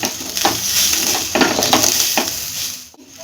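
A spoon stirs salt into Kanika Bhog cooking in a pan, giving a soft scraping and rustle over a steady sizzle. There are several distinct strokes at irregular intervals, close and fairly loud, with no talking.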